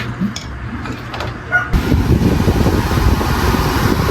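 A portable air conditioner, previously prone to shutting off and repaired after rat damage to its sensor wiring, switches on at about 1.7 seconds; a steady broadband fan and compressor roar then runs loud and continuous to the end.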